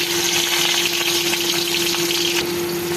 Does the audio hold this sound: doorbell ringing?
no